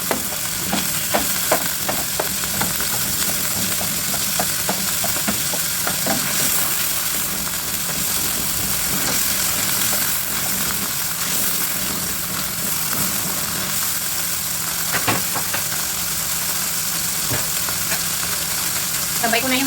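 Onions sautéing in a pan for pancit guisado, with a steady close sizzle and frying crackle throughout and occasional stirring clicks and scrapes, with no talking.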